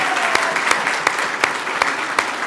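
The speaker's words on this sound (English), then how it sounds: "We can clap for that." An audience at the grand opening of a neighborhood center claps in a short, steady burst, sounding full and close, with a few louder individual claps standing out and no talking over it.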